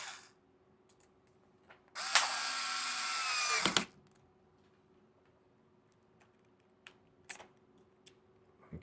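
Drill driving a longer screw into an RC car differential case, one loud, close whir lasting about two seconds, then a few faint clicks and taps.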